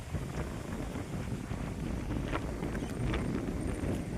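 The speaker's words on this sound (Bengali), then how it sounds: "আজকে প্রচণ্ড হাওয়া দিচ্ছে" Strong wind buffets the microphone on the riverbank facing Haldia port, a steady low rumbling roar that swells slightly toward the end, with no voices.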